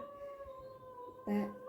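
Dogs howl faintly in the distance in a short, quiet stretch, with a sustained wavering tone and a brief louder cry near the end.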